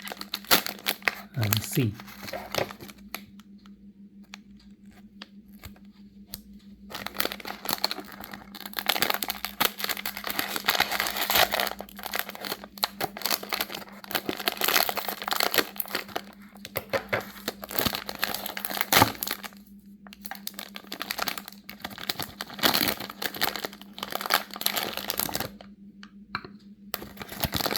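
A Miniso Tom and Jerry blind box is unwrapped by hand, with bursts of crinkling plastic and rustling packaging separated by quieter pauses over a steady low hum, close to the microphone, with a person speaking briefly.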